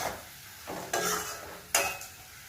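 Potatoes fry in hot oil in a pan, a quiet sizzle broken by two brisk scraping stirs, close and fairly faint.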